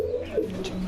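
Domestic pigeons coo inside a loft in India, a short, soft, low warbling coo near at hand over faint background hum.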